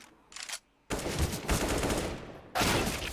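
Gunfire during a Counter-Strike-style esports match, with dense bursts of rapid shots and a hissing Molotov blaze filling most of the moment, loud and close, with no voices over it.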